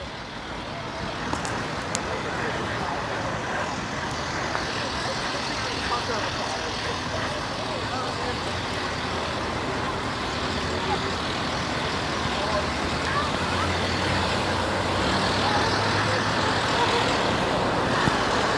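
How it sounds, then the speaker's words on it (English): School buses and other traffic rolling past on Portland Street, a steady broad roadway rumble that swells slightly toward the end, with no clear single pass-by standing out. "we've been noticing a lot of school buses driving past us"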